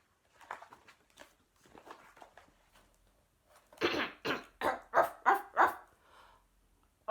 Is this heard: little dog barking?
yes